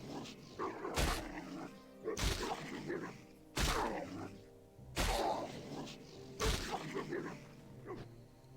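Prairie Wolf Alpha, a wolf creature in World of Warcraft Classic, gives about five sharp yelps and growls spaced roughly a second apart, over steady game music and combat noise.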